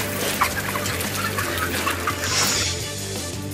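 Chickens cluck continuously inside a tin-roofed poultry shed, a dense, fairly close flock chatter with scattered sharper calls over a steady droning background.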